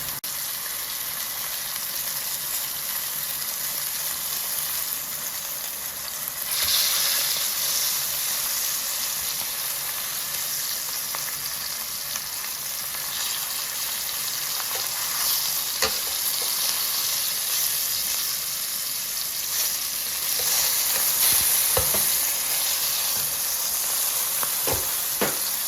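Tilapia fillets dredged in flour frying in a pan, a loud, continuous hiss and sizzle with faint crackles and occasional clinks, steady and close throughout.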